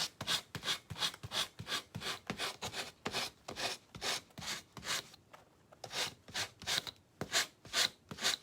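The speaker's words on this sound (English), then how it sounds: "Maybe I just need to rub it back on there really good." Material being rubbed firmly onto a wedding frame, a close, rhythmic series of back-and-forth rasping strokes, about two per second, pausing briefly before resuming.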